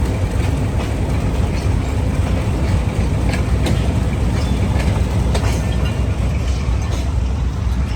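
Passenger rake of mixed coaches hauled by an SP20 locomotive, a continuous dense rumble and rattle of wheels on track with faint rhythmic clacking, heard close from inside or beside the train.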